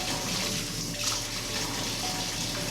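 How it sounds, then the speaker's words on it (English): Water scooped by hand from a sink while bathing a baby, a continuous close splashing and trickling wash of water with no voices. "I scoop water in my hand from the sink."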